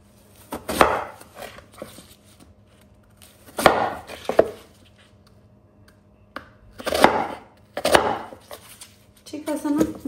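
A knife chops taro (kochu) on a board in a home kitchen, in short clusters of quick, close chops separated by pauses, with a voice speaking softly in the gaps.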